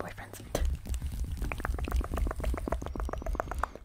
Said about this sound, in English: So all I do is literally just mix milk with espresso.